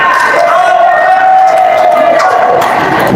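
An audience at an Indonesian political rally cheers and applauds in a dense, continuous roar, with voices blending into the noise.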